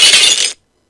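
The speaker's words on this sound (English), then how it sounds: "he suddenly heard the loud sound of glass breaking" Glass breaking loudly in a single crash as a person falls through a glass shower door, a bright shattering burst lasting about half a second and then cut off into silence.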